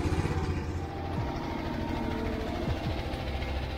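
An excavator's diesel engine works hard under load while pushing a loaded bucket during earthworks on an access track to a watermill dam. It sounds as a steady, fairly quiet low rumble with a few rising hydraulic whines.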